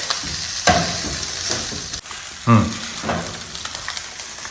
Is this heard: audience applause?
no